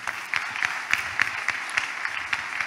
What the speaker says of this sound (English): Can you give the Lord a clap offering?